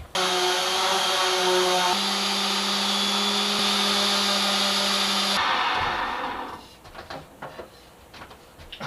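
Power sander easing the edges of a wooden boat's aft cabin door, a loud steady whine holding for about five seconds before winding down, followed by lighter scraping and handling sounds.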